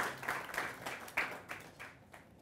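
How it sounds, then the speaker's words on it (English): A lecture audience gives a guest professor a brief, faint round of applause, a soft patter of clapping heard from a distance that fades within a couple of seconds. "Please give him a round of applause."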